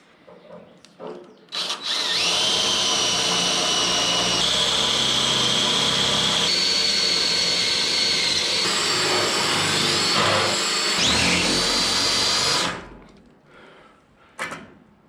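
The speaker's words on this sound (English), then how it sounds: "I'm just gonna take a drill and drill enough to knock the face of these spot welds off." A power drill whines steadily for about ten seconds, drilling out spot welds on a classic Mustang, grinding into metal with shifting pitch, close and loud, then stops.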